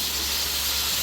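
Tomatoes hit a hot pan and set off a loud, steady hiss of sizzling that fills the whole brief moment.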